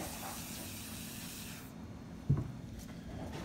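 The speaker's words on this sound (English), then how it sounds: "some WD-40 spray" A steady spray of WD-40 lubricant during chainsaw maintenance hisses for about a second and a half, then stops, followed by a soft knock and quiet handling noise.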